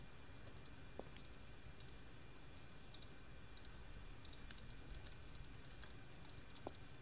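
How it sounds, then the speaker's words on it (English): Rapid computer keyboard typing and mouse clicking in a quiet room, with steady clusters of soft clicks continuing throughout at low volume. "All I hear is just a massive amount of clicking on your end."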